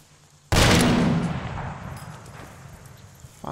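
A single loud, close gunshot from the military video game ARMA 2, Wasteland survival mod, cracking sharply and then rolling away in a long echoing tail over about three seconds.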